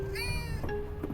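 A cat meows when hugged in the farming game Fields of Mistria, a short rising-and-falling meow over a steady game music bed, with a second softer mew near the end.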